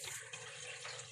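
Water trickles briefly from a leaking mixer valve faucet, a close steady watery hiss with no voices.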